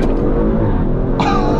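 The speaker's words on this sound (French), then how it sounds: "Elle arrache. Elle l'arrache, cette voiture." An Audi RS5-R ABT accelerating hard, its engine note loud and close, swelling into a brighter, higher roar near the end of the short burst.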